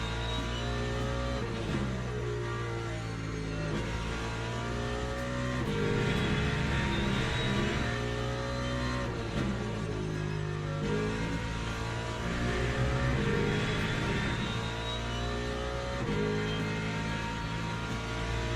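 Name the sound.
racing game car engine revving after a downshift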